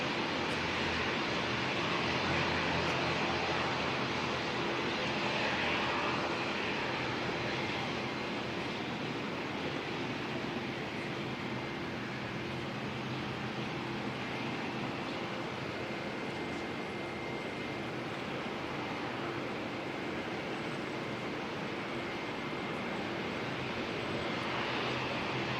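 An Air Chathams ATR turboprop airliner at Auckland Airport produces a loud, continuous engine roar that holds steady throughout, with a broad rumbling drone and no talk.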